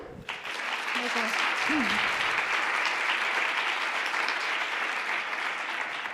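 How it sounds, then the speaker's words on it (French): An audience at a science talk breaks into applause, a broad, even wash of clapping that holds steady and full for several seconds, with a brief voice near the start. "Je vous demande d'applaudir très fort Leïla Auger."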